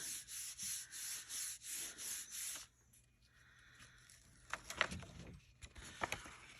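Excess paint being rubbed off a printing plate during mono-printing, heard as a run of rhythmic, fairly loud scrubbing strokes that stop about halfway, followed by quieter handling sounds and a few light taps.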